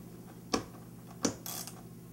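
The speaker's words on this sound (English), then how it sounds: "You should hear a click when the torque wrench hits the desired torque value" Torque wrench clicking as it reaches the set value while tightening battery terminals in a power room, two sharp close clicks about a second apart followed by a brief rattle.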